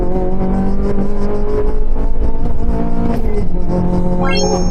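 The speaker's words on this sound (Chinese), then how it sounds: "现在我们就把车开出去，踩一踩哦，给你们听一下 VTEC 的声音" A Honda car's VTEC engine revs hard under acceleration on the road, a loud, sustained harmonic drone that rises and shifts pitch, then climbs sharply near the end.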